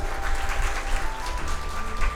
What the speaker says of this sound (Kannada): ಅಂಥ ವ್ಯಕ್ತಿಗೆ ಜೋರಾಗಿ ಚಪ್ಪಾಳೆ ತಟ್ಟಬೇಕು ನೀವೆಲ್ಲ